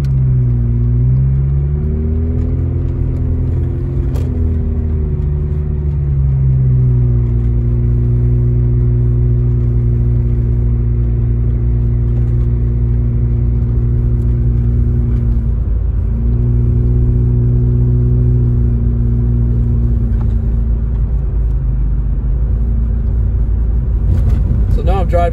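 A car travels along snowy Big Bear Boulevard in Big Bear Lake, California, its engine a loud, steady low rumble that shifts pitch as it accelerates, with someone talking over it throughout.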